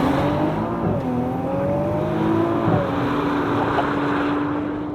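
A 2022 Nissan GT-R T-Spec launching under launch control from about 4,000 rpm, its engine note climbing steadily in pitch through hard acceleration, loud and continuous with rushing wind noise inside the cabin.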